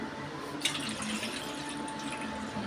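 Coconut milk poured into a pot of simmering fish curry, giving a steady, soft liquid trickle that runs on evenly and alone, with a brief clink near the start.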